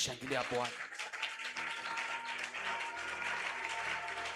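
A church congregation at a Sunday service applauds the Lord, with steady, full-room clapping that carries on throughout, with a voice briefly heard over the start.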